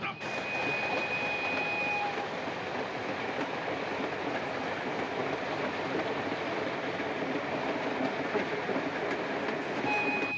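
A train rumbles steadily along the tracks, a continuous loud wash of wheel and carriage noise with brief high tones, no voices.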